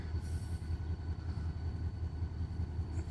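Susquehanna locomotive #3018 throbs low and steady while switching grain cars in a Binghamton, New York rail yard, a distant pulsing engine rumble with a faint high hiss early on.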